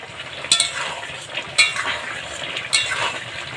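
Jackfruit and prawn curry is stirred in a pan on low heat, three distinct scraping clanks of a spoon against the metal over a soft, low sizzle, with no talking.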